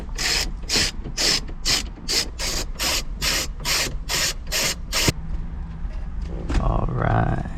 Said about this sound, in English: You do need a 10mm socket.